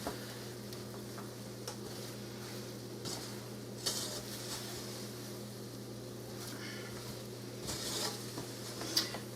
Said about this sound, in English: And we're still continuing to turn them over. And it gets a little harder to stir them.